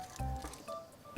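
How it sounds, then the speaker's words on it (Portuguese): An egg is cracked while making cornmeal rolls, with a couple of short, close, wet cracking and squishing sounds spread across a brief moment. "Vou partir o ovo,"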